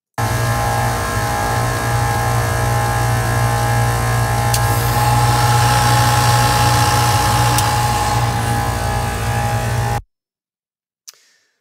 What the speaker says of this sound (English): Let's have another listen and you can hear what's going on inside the compressor again.